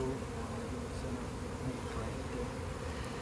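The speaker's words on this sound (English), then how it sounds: "you've got so many bees here" A dense swarm of honey bees that stayed too long in a bucket and a nuc box hums in a thick, continuous buzz, close and steady throughout with no voices.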